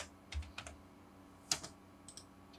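Keys clack on a computer keyboard while entering the M command and pressing Enter in AutoCAD: a few sharp, close taps spaced irregularly, with one louder stroke near the middle, over a quiet room hush.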